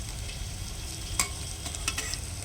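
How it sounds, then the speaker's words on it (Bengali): Chillies frying in a pan for a tangy chilli pickle, a steady soft sizzle with occasional scraping stirs, close and moderately quiet, no voices. "লঙ্কাটা কিন্তু আমার একটু ভাজা ভাজা হয়ে এসেছে।"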